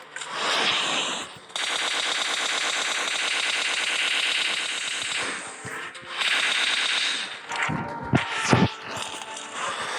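Groza assault rifle in PUBG Mobile firing long sustained bursts of rapid automatic gunfire, loud and close. Brief pauses break the fire, and a few scattered single shots and impacts come near the end.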